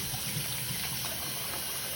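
Tap water runs steadily while baby bottles are rinsed, a constant close gushing hiss with slight splashing variation, alone and without any talking.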